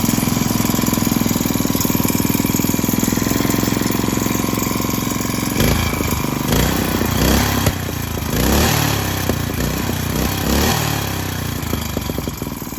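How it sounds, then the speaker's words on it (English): A small engine on a homemade tiller runs steadily and loudly nearby, a constant buzzing drone with slight fluctuations in pitch and no voices. "So that little engine runs perfect."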